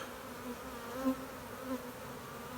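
Honeybees hum softly around beehives in an apiary, a faint continuous drone with a few slightly louder passes as individual bees fly near.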